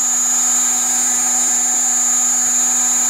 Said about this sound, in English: this is the motor speed, so this is RPM. So running 7000 right now.